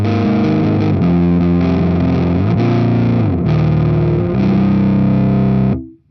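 Electric guitar played through the Valeton GP-5's JTM 45 amp model at low gain, a crunchy, fairly driven British plexi-style tone strumming chords steadily and loudly before cutting off abruptly near the end, with no talking.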